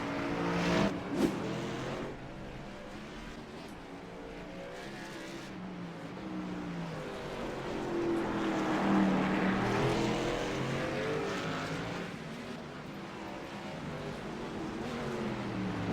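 A race car circles a track, its engine note rising and falling as it passes at a distance, a continuous drone lasting the whole stretch with no talk.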